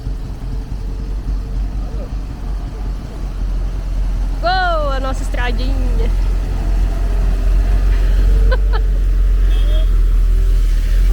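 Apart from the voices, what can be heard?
water tanker truck passing on dirt road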